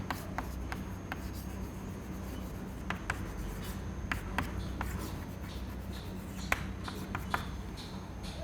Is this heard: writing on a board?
yes